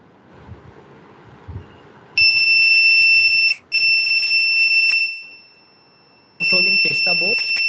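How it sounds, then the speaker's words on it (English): An electronic buzzer wired to a relay on a controller board sounds a loud, steady high-pitched tone. It cuts out briefly, stops, then sounds again, with quiet talk before and during it. "In case I will just connect it with the buzzer."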